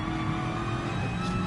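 Group 3 race car engine at Suzuka in the GT Sport video game drones steadily at high revs, a brief, loud, sustained tone with a faint whine rising near the end.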